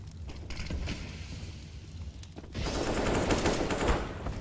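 Rapid pistol gunfire in a Counter-Strike esports match, with dense crackling shots bursting over game ambience and growing heavier toward the end.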